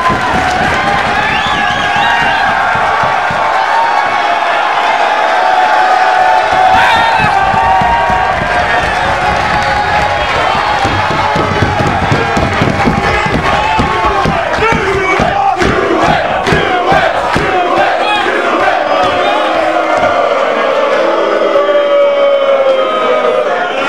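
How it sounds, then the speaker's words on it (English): Wrestling crowd at an intergender tag team match chanting loudly, a dense roar of many voices with rhythmic shouts and scattered claps, sustained and close throughout, swelling in the middle. "the fans are chanting for"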